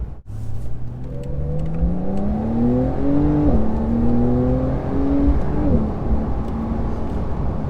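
A 2020 Porsche 911 Carrera S (992) with a PDK transmission accelerates hard. The engine note climbs in pitch through several quick, seamless gear changes in a sustained, loud run, with no talk.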